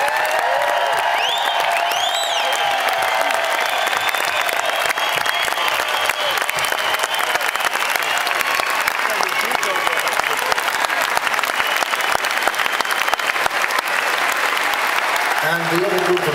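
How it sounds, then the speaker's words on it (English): Large outdoor concert crowd at the Hollywood Bowl applauding the production crew, a dense sustained roar of clapping with scattered whoops and cheers, loud and continuous throughout. "an enormous round of applause"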